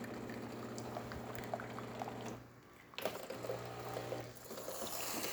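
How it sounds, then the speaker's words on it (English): A steady stream of hot water pours and gurgles from the spout of a Jura coffee machine, with a constant mechanical hum beneath and a short pause partway through. "Hot water, as you can see, steady stream as well."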